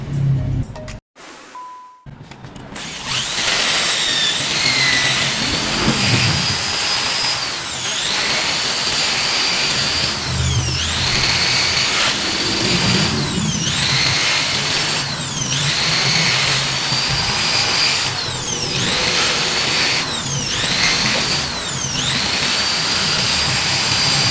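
A power drill bores a hole in a motor part, giving a loud, continuous high whine right at hand. It starts after a short moment of handling noise, and its pitch dips slightly with each push into the metal.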